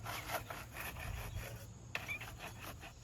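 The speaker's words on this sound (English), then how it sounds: "Okay, just scrub it down." A push mower, a Craftsman 21-inch built by MTD with a Briggs & Stratton engine, scrubbed down with diluted Simple Green degreaser, giving a steady close rasping brush scrub with repeated strokes and a brief knock near the end.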